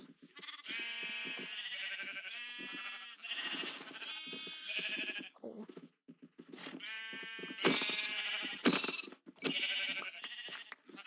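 Several Minecraft sheep bleat one after another, loud and close, with short pauses between the calls and no talking.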